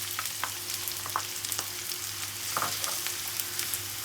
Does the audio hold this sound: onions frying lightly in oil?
yes